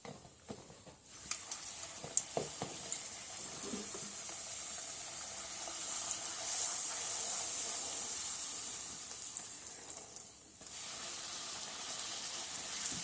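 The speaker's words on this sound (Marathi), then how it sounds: "अशा पटपट पटपट भाजून घ्यायच्या" Puris deep-frying in hot oil, a steady close hissing sizzle that runs through the whole stretch with a few faint clinks early on.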